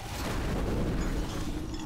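A spell explosion in the dungeon-crawler game Legend of Grimrock, a dense, rumbling blast that roars steadily and loudly for about two seconds, heavy in the low end, with no voices over it.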